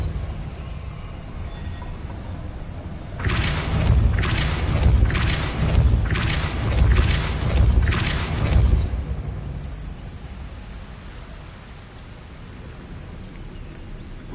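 In the Hogwarts video game, the Depulso spell is cast, bringing a run of five or six heavy, rhythmic booming thumps in quick succession over a low rumbling background. The thumps then fade back to ambience.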